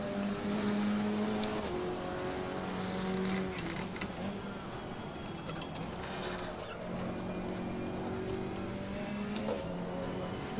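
A GT3 race car in Assetto Corsa Competizione closes in from behind on a wet Zolder track, its engine droning steadily with shifting pitch under the player's own car noise, no talk.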